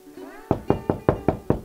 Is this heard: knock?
yes